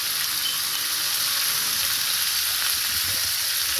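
Pork with salt and turmeric frying and being mixed in a pan, giving a loud, dense, unbroken sizzle from start to end.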